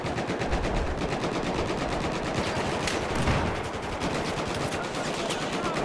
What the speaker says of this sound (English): What the fuck is shooting me now?